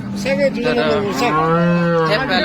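A horned cow moos loudly and close by at a cattle market in Baramati, one long drawn-out low call with a rising, wavering tone, over faint background noise.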